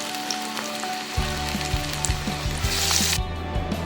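Masala vada sizzles steadily in hot oil, a dense continuous crackle with a few metallic clinks and scrapes of a utensil partway through, close and alone with no voices.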